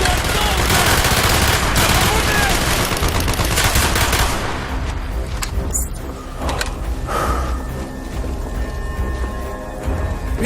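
Call of Duty: Black Ops campaign gunfire crackles in rapid, dense automatic bursts alongside battle noise, loud at first and then thinning into scattered shots, with shouted voices mixed in.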